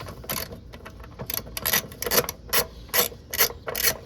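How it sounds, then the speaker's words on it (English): A 13mm ratcheting wrench loosening a nut on a Toyota 4Runner running board bracket, giving quick bursts of crisp metallic clicks in an uneven rhythm, close and moderately loud, with no voices. "We're gonna take my 13mm wrench here, and we're gonna loosen it from the nut side."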